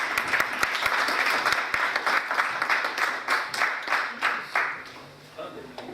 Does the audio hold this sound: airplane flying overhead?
no